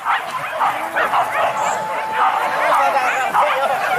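Several hunting dogs yip and bark excitedly in a busy chorus during a wild boar hunt in West Sumatra, with people talking in the background.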